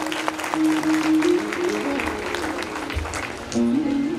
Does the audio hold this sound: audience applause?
yes